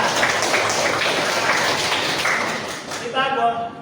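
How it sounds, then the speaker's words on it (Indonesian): Classroom applause for a student, a burst of many hands clapping together at close range that runs steadily for about three seconds before dying away into a brief voice. "Masya Allah, tepuk tangan untuk ya."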